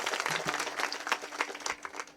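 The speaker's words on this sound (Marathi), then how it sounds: "आणि मृदंगाचार्यांसाठी सुद्धा टाळी" An audience at a kirtan performance claps for the mridangam player, a dense patter of many hands at moderate distance, fairly faint and short.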